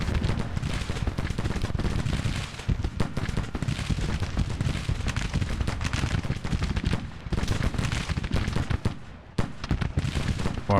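Dense, continuous booming and crackling battle din from an artillery bombardment in the strategy game Grand Tactician, loud and sustained with overlapping blasts and gunfire, a brief lull near the end.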